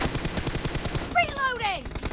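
A short run of rapid gunshots from a firearm in PUBG Mobile, fired in a quick staccato burst and then breaking off into whistling, ringing tones, moderately loud.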